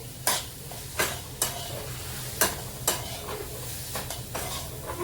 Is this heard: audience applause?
no